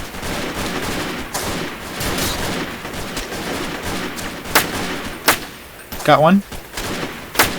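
Gunfire in the video game Freeman: Guerrilla Warfare, including a machine gun, crackles continuously with a few sharp, louder shots standing out near the end while someone talks briefly.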